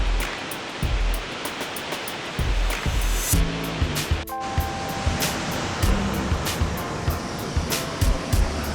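Shifen Waterfall in Taiwan pours into a pool in a steady, loud broadband roar that fills the whole stretch, with a few brief clattering bumps near the start.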